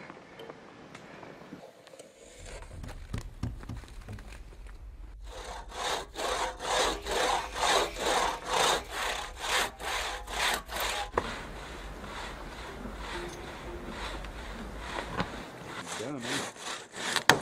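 A hand saw cuts wood outdoors on a sheep hunt, its strokes rasping back and forth in a fast, even rhythm for several seconds before the sound thins out. A brief voice speaks near the start.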